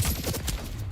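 Gunfire in the Splitgate 2 arena shooter, a dense, continuous barrage of overlapping shots and blasts, loud and close for about a second.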